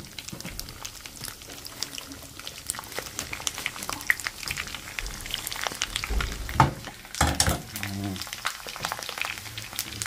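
Squid frying in a pan with oil, a crackling sizzle that swells and grows denser toward the end, alongside faint kitchen clatter and occasional speech.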